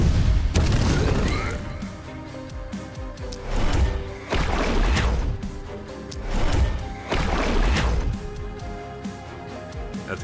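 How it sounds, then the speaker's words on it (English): An explosion spell in the video game The Last Spell goes off repeatedly, three or four booming blasts with crashing debris at regular intervals, loud and full over a rumbling battle background. "drop the explosion."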